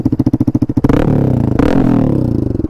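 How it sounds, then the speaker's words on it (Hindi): Hero Xpulse 200 motorcycle fitted with a full-system AR exhaust, starting with rapid rhythmic blips and then holding a loud, close, continuous rev that rises and falls, with no talk over it. "ये देखो यहाँ पे ना एयर का डाला हुआ है एग्जॉस्ट, और मैं इसका ना एक बार साउंड सुनाता हूँ आप सबको।"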